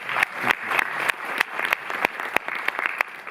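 Audience applause in a Paris cinema hall, a steady wash of many hands clapping at close range, with distinct sharp individual claps standing out throughout the few seconds.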